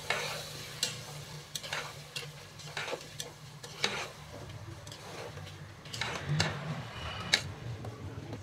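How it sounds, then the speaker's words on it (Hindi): Beef pieces fried with red chilli powder, salt, yogurt and spices for pulao, a soft steady sizzle broken by a regular series of spoon scrapes and knocks against the pot, fairly quiet and without speech. "यहाँ पे हम मसाले के साथ बीफ की भुनाई कर लेंगे 5 से 7 मिनट के लिए"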